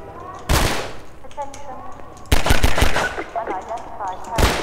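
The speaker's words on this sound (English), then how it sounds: "That's where that death sound effect comes from." Gunfire and combat effects from the Half-Life 2 video game, loud bursts of rapid shots in two main clusters with a final blast, mixed with brief game voice chatter.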